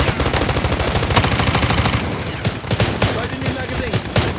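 Rapid automatic gunfire crackles through a Delta Force Mobile match, dense bursts stacking into a continuous fusillade with occasional louder shots, while faint voices talk underneath.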